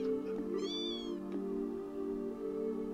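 Cats meowing in the video game Trails in the Sky SC: a short, high, wavering meow rises over a steady backdrop of game music, with a fainter second mew shortly after.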